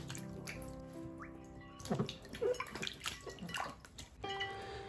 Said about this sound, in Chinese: 清洗一遍后再用清水再次冲洗一遍